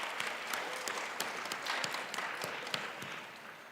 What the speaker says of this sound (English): Big round of applause and thank you.